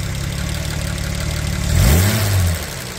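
A classic Jaguar E-Type engine idling smoothly, then revving up loud and deep near the middle before settling back down, heard close by on its own.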